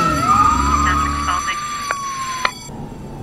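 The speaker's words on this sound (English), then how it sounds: "I already hear sirens." A siren wails with a long rising and falling tone, moderately loud, over a low engine rumble and a few sharp clicks.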